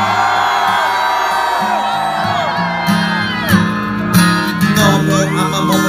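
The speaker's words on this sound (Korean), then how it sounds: "각자의 아버지에게 함성 3초간 발사." A festival crowd at a concert at Hallym University shouts and whoops together for a few seconds. The loud, massed cheering rises over steady music, with sharper peaks near the middle and end.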